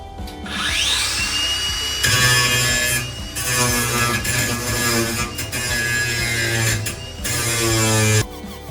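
An angle grinder cuts into riveted metal plates on the inside walls of a Sprinter van, a loud, close, steady whine broken by short pauses and shifts in pitch as the disc bites and is lifted away.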